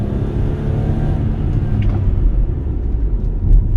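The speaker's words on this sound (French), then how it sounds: "alors vous voyez que le V6 répond très bien" A Toyota Highlander 4x4 SUV with a V6 engine pulls forward under acceleration, a loud, steady low engine rumble heard from inside the cabin, with no speech.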